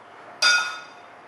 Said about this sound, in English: you take a few ice cubes